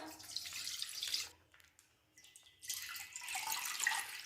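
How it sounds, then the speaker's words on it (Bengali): Milk pours into a wok for Bengali pithe, a close, steady liquid splash in two bursts with a short pause between, and no voices. "এবার কড়ার মধ্যে দুধ দিয়ে দিলাম"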